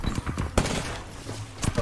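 Vantage's sniper rifle firing in the video game Apex Legends: several sharp gunshot cracks spread across a short stretch, one strong report in the middle and a cluster near the end, over faint background game sound.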